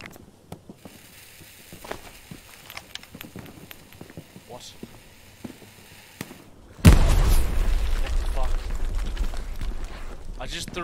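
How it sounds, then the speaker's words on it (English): A grenade detonates in the World War II shooter Hell Let Loose near a building window, a sudden loud boom that cuts in midway and leaves a sustained roaring rumble, following quieter game noise and clicks with some talk. "Threw a grenade off the building and it just like stopped midair and blew up right next to the window."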